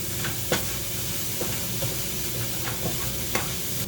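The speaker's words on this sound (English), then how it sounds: "add the pre-minced garlic. And then you'll cook it for about 30 seconds." Pre-minced garlic fries in a hot pan for a vegan meal, giving a dense, even hiss and sizzle with a few soft stirring taps and scrapes, close and continuous with no talking.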